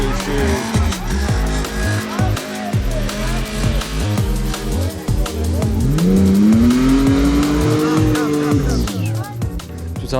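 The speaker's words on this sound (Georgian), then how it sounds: "ცოტა უფრო მაღალი მანქანებია ცოტა უფრო მოდიფიცირებული და ცოტა უფრო დიდი ბორბლებით" Modified off-road cars with raised bodies and bigger wheels at a Trophy Trial event in Racha, Georgia, engines loud and close, revving hard with a rising, sustained roar and rough mechanical chatter.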